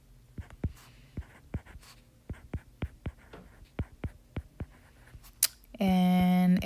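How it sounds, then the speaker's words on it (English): Handwriting on a surface makes a series of short, soft taps and strokes in an irregular rhythm, close and quiet, ending with a brief loud tone. "I'll try to write neater again"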